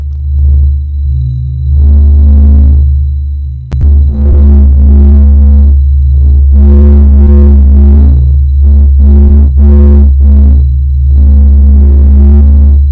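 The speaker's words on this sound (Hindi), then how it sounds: "यह हमारे सूर्य की आवाज है।" A deep, throbbing electronic drone pulses with swelling tonal bursts, loud and continuous, with a low rumbling hum underneath and no voices; a sonification of the Sun.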